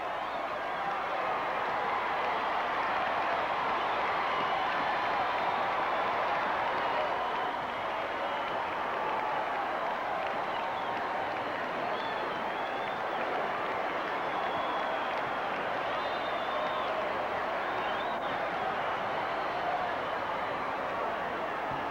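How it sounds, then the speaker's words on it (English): A dense, steady crowd roar at a 1970s professional wrestling event as a tag team walks down the aisle, continuous and loud throughout with no break. "listen to this roar of the crowd as the other team comes down the aisle"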